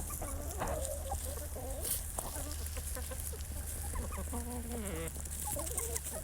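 Hens cluck and squawk close by in a yard of icy, crusty snow, their chattering calls coming in uneven bursts over a steady low hum, with faint scratchy footfalls in between.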